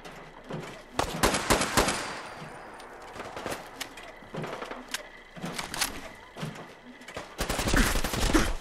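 Gunfire in Fallout 4's Nuka-World DLC at the Nuka-Cola Bottling Plant comes in sharp, repeated bursts and volleys, some rapid and clustered, spread through the clip with brief pauses between exchanges.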